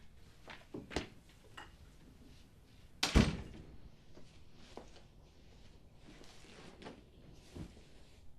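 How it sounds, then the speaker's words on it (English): A door is shut with one solid thunk near the middle, standing out against a quiet room with a few faint knocks and rustles around it. "Shut the door."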